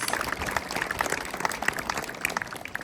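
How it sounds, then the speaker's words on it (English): An outdoor audience at a Mount Rushmore cultural show gives a powwow dancer a round of applause: a dense, even patter of many hands clapping together for a few seconds. "give her a round of applause"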